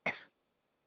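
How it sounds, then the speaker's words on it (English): A single cough comes through a phone line on a conference call, loud and brief with a short burst and then quiet line hiss. "Whoever's coughing, please mute your phone."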